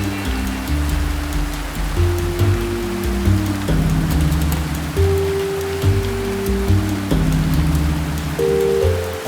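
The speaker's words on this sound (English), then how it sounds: "there's nothing I can do in this incessant rain" Heavy, incessant rain pours down as a dense, unbroken wash of sound, loud and close, with a low droning tone running beneath it the whole time.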